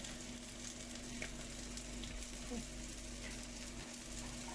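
Raw minced-meat kebab patties frying on a griddle (tava), giving a steady, moderately quiet sizzle with a faint hum underneath and no talk.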